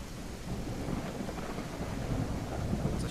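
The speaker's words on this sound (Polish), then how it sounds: "Tutaj mamy deszcz. Burzę mamy wręcz nawet." Rain and a rumbling thunderstorm in the horror video game Backrooms Lost Tape: a dense, constant downpour with deep rolling thunder underneath, loud and unbroken for the whole stretch, with no voices.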